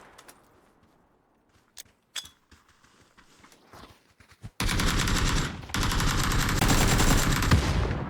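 Scattered clicks and single shots give way to loud, sustained bursts of rapid automatic gunfire in PUBG, close and nearly continuous.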